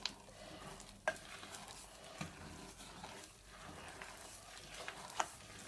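Flour being stirred into a Christmas cake batter in a bowl, a soft continuous scraping and swishing with a few sharper knocks of the utensil against the bowl, close and fairly quiet.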